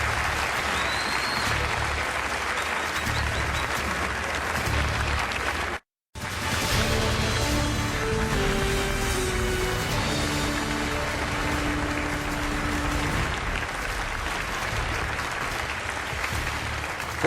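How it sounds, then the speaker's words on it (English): Sustained, loud applause from the audience at a Republican presidential debate in 2015 greets the candidates, continuous and broad, broken by a brief cut before resuming. "Please give some applause to the candidates."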